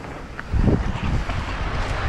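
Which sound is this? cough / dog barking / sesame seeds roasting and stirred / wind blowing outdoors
wind blowing outdoors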